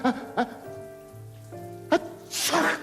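A single sneeze bursts out near the end of a short stretch of cartoon audio, after a few brief clicks and tonal sounds.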